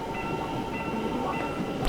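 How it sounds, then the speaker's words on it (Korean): An ITX express train passes close by at a Seoul rail crossing, a steady loud rumble of wheels and carriages with a faint tonal hum running throughout. "이번엔 ITX다."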